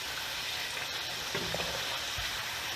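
Freshly caught fish fries in a dollar-store pan, a steady soft hiss and crackle of hot oil filling the background, with faint stirring clicks and no talking.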